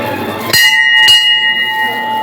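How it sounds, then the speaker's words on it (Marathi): A metal temple bell is struck twice in quick succession at a crowded Shiva temple during a Nag Panchami visit, each ring loud and close, with a long shimmering metallic decay. "घंटी वाजवली. आता मी वाजवते."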